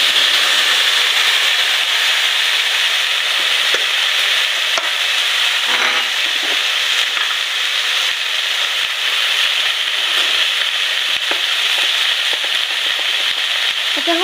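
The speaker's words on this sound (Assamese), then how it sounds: "অলপ টাইম ভাজি ৰাখিম।" Taro stem and small fish fry in a pan for an Assamese dish, giving a steady, close sizzle with occasional scraping from stirring throughout.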